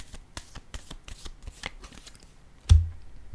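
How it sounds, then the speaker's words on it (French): Tarot cards are shuffled in a quick, steady run of soft riffling clicks, then a single card is set down with a louder thump, close up, with no talking. "Je vais déposer une carte sur ces trois-là."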